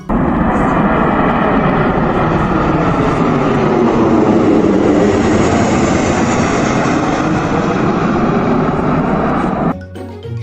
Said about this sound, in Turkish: Uçak işte böyle ses çıkartır.